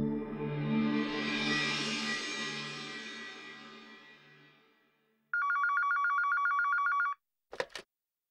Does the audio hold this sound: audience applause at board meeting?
no